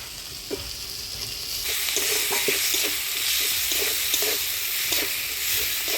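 Tomato and ground spice paste fries in a pan, a quiet start swelling into a dense hiss as stirring begins, with regular scraping strokes of the spoon against the pan.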